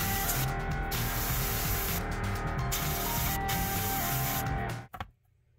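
An airbrush sprays black paint onto a fishing lure in a steady airy hiss broken by short pauses, then stops abruptly near the end.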